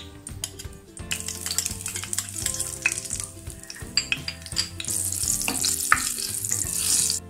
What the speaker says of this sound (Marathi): तूप तापल्यानंतर त्यात आपण हिंग आणि हळद घालणार आहोत.